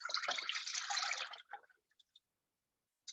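Plant-based milk pours into a pot in a brief splashy stream lasting about a second and a half, followed by a few soft drips before it goes quiet.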